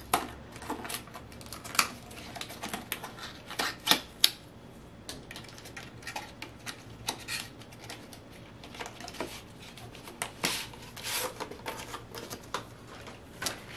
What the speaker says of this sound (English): I'll open up this vinyl next.